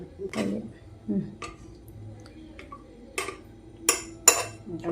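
A spoon works through cornflour pudding mixture in a bowl, giving a handful of sharp clinks and scrapes against the sides, spaced irregularly and fairly close, with quiet pauses between strokes.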